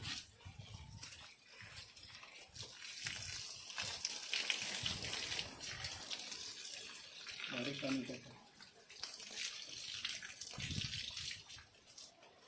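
Water is poured into a soil basin dug around a banana plant, making a steady rushing splash that swells and fades over several seconds, outdoors at moderate distance with a voice faintly beneath.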